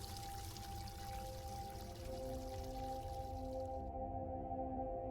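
Cold water runs from a tap in The Dream Machine video game, a steady pouring rush with ringing tones that shift in pitch, ending abruptly.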